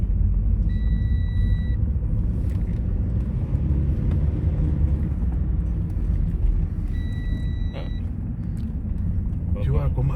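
A car drives along a mountain road near Davos, heard from inside as a loud, steady low engine and road rumble with a couple of brief electronic beeps, while people talk over it.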